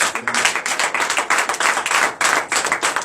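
A congregation at a morning prayer service claps together in a fast, steady rhythm, loud and close, with many hands striking in quick repeated bursts and a brief pause midway.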